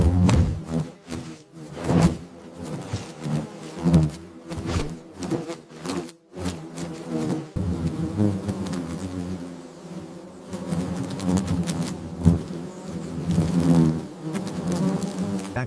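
A swarm of paper wasps buzzes loudly and continuously up close, the dense droning hum swelling and dipping as individual insects whoosh past.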